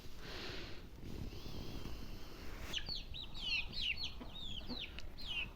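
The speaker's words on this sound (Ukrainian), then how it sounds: "Ой, качки кричать, розриваються." A flock of ducks quacking noisily over steady outdoor background noise, the calls breaking out partway through and repeating in quick, overlapping bursts.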